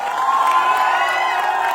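A huge crowd at a large gathering in Patna cheers and hoots, a loud, sustained wash of shouting voices and whoops held steady throughout.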